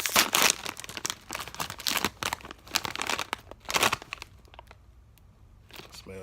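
A snack bag of habanero hot cheese popcorn is torn open and handled, giving loud, close crinkling and crackling plastic for several seconds before fading to quieter rustles, with no talking.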